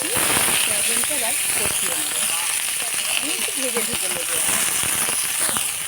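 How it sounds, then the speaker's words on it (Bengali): Cauliflower and soybean chunks fry in oil with a steady, crackling sizzle that continues under a voice talking throughout. "তেলের মধ্যে আবারও কিছুটা তেল দিয়ে দেবো দিয়ে ফুলকপি আর সয়াবিনটা ভেজে নেব"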